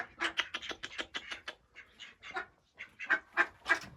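Farmyard ducks quack in quick repeated bursts at close range, several calls in a row, a short pause, then more rapid quacking.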